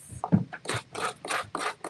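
Rhythmic rasping strokes of sandpaper rubbing back and forth over a textured surface, close and fairly loud, about six passes.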